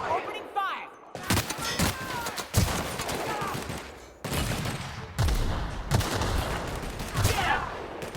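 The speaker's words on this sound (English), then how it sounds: "Opening fire!" Sustained gunfire rattles through a firefight in the video game The Outer Worlds, with dense bursts and volleys of shots, several sharp breaks between them, and faint voices in the mix.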